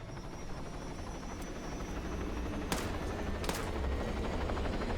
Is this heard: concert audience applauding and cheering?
no